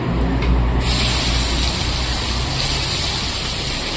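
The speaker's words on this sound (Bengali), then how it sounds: "এখন দিয়ে দেবো পেঁয়াজ কুচি।" Chopped onion hits hot oil already holding bay leaf, whole dried red chillies and whole garam masala. A loud, dense sizzle bursts up within the first second and keeps roaring, close, with no talking.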